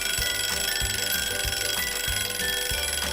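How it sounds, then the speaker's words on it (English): A timer alarm goes off with a loud, steady run of repeated electronic beeps, evenly spaced about twice a second and heard alone. "When your timer goes off, check to see if the food coloring has spread into your toilet bowl."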